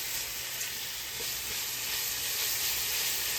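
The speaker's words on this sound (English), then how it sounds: "It's the bacon. Bacon here. And like I say, all I want to do is render this down till it gets really, really crispy." Bacon rendering in a pan for shrimp and cheese grits gives a steady, dense sizzle that holds at an even level throughout, close up, with no talking over it.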